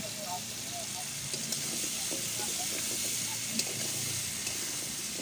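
Soybean and pumpkin sizzle in a pan with chilli and cumin, giving a steady, moderate hiss of frying with occasional soft stirring knocks, while a voice speaks faintly in the background.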